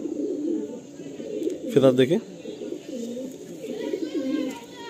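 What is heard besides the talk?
flown pigeons for sale, a female shown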